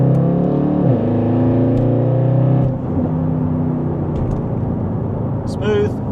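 Supercharged 5.0 V8 of a Jaguar XFR pulling away from rest, its engine tone climbing through rising harmonics, shifting up and building again; loud, steady and close, with a voice speaking over part of it.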